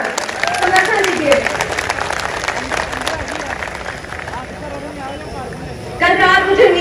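A crowd at a farmers' protest rally near the Nepal border claps in a loose, uneven burst that thins out midway, with voices shouting and talking over and after it.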